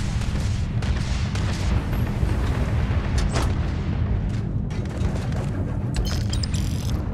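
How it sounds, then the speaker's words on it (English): Distant booming gunfire in the game Starfield rolls continuously under a dense rumbling background, with sharper cracks poking through now and then; no voices. "I hear gunshots."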